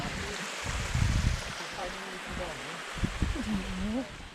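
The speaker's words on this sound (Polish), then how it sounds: "Taki wodospad mamy tutaj malutki po drodze." Steady rushing water from a small mountain waterfall on a trail in Dolina Strążyska fills the background while a person talks over it.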